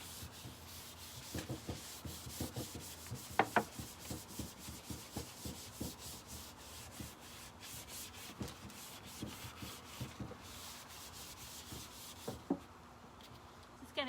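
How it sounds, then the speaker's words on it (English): 3M stripping pads scrubbed over a furniture surface coated in chemical stripper, making a steady, close rhythmic rasping with repeated back-and-forth strokes, fairly quiet and with no talking. "And again, I like to use these stripping pads by 3M."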